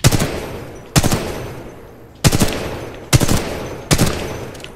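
Gun firing in Titanfall 2, five loud separate shots spaced about a second apart, each with a ringing tail, no talking.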